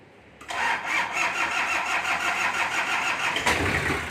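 A car that had sat parked for a long time cranks and catches, then settles into a steady, close idle with a loud, even engine drone and no talk.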